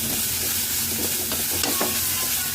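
Chopped carrot frying in a pan with a little salt for carrot rice, a constant loud sizzle with occasional stirring scrapes, heard alone throughout.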